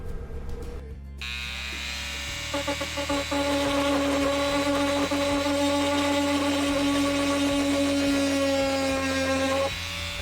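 An oscillating multi-tool cuts during an upgrade on a 2008 Monaco Diplomat RV, giving off a steady, high, harmonic buzz that starts after a couple of seconds of quiet handling noise and holds until it cuts off near the end.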